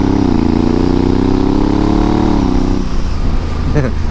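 A Honda Africa Twin DCT adventure motorcycle engine runs close by, a loud steady droning hum that drops in pitch near the end, with voices underneath.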